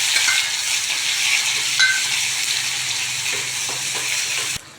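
Crushed small shallots and garlic frying in a hot pan, a steady bright sizzle throughout with a few soft stirring scrapes, close and continuous, no one talking.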